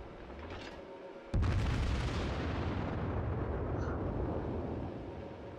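Battleship main guns firing in World of Warships, a sudden deep booming blast after a quiet second, then a long rumbling roar that slowly fades.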